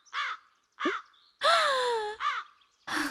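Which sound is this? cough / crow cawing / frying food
crow cawing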